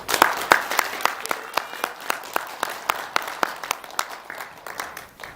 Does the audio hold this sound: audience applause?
yes